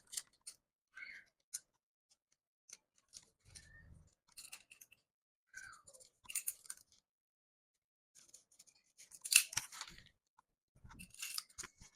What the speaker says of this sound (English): I'll cut this dart and close it back